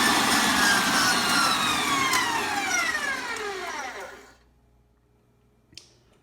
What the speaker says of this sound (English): you want to beat the eggs and the sugar until they become slightly pale